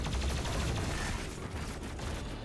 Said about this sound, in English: I'm hearing shots fired. Shots are fired